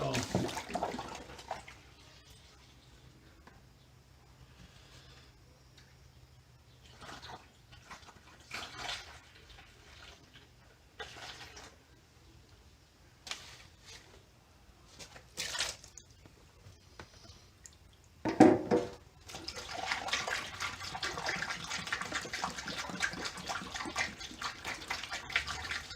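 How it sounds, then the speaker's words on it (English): Warm water runs intermittently, in short splashing bursts and then a longer steady rush near the end, with faint thumps and movement between; used while prepping motorcycle fuel tanks for POR15 coating. "Alright, a little bit of warm water."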